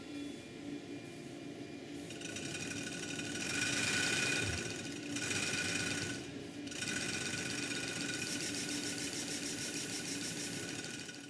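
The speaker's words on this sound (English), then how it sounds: "I just lifted the engine up on some wooden blocks and put some compressed air into the boiler" A model LNER V1 steam locomotive raised on wooden blocks and running on compressed air fed into its boiler: a quiet, steady mechanical whirring and chuffing that swells and fades over several seconds, with no one speaking.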